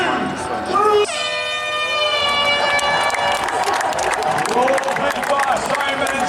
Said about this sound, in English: On 3, a huge cheer for our professional women.